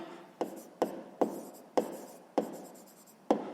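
Pen or chalk writing out a sixth-grade math solution by hand in a series of six distinct strokes, each a sharp scratch that trails off, spaced roughly half a second apart, close and fairly quiet with no talking.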